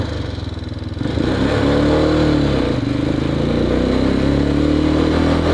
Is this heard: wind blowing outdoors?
no